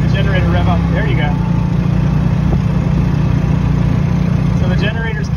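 The gas generator on a hybrid electric golf cart revs up under full throttle, a loud steady engine drone close by with someone talking over it.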